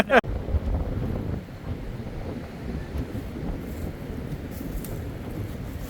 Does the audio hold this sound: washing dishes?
no